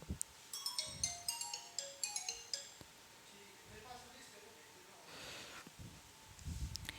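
A mobile phone ringtone chimes as a rapid series of bright, bell-like notes in the first few seconds, moderately faint, followed by clinks and murmured talk in a classroom setting.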